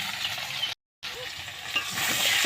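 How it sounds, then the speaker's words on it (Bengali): Potatoes frying with ground ginger and salt in a pan give off a loud, continuous sizzling hiss with stirring. There is a brief silent gap near the start. "তো এবার আমি দেখো আদাটা দিয়েও একটু ভেজে নিলাম"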